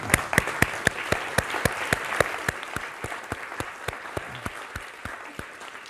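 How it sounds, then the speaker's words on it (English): A room full of people at a mathematics lecture claps steadily for several seconds, sharp individual claps standing out, slowly thinning toward the end. "I think we owe them all a round of applause."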